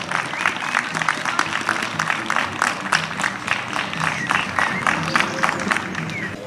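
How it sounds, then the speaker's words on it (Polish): A crowd at a show-jumping competition gives sustained applause for all the riders of the first class, rhythmic clapping that holds steady throughout with some voices mixed in. "ja poproszę o wielkie brawa dla wszystkich uczestników konkursu numer 1"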